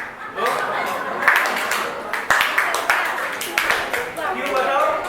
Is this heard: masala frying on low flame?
no